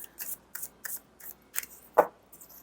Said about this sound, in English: Do one more shuffle just to make sure we got everything in there